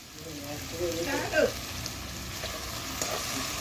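Potatoes fry and sizzle in a pan over a wood-fired stove, a steady close hiss with a brief stir midway and no talking.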